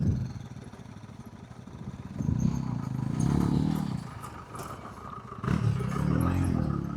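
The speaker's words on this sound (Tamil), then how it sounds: "வெயிட் பண்ணுங்க, வண்டி வருது." A Yezdi motorcycle engine rumbles on a rough off-road trail up toward Mandalpatti Peak, steady at first, then swelling twice as the bike comes nearer amid scraping and clatter.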